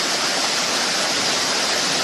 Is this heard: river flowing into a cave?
yes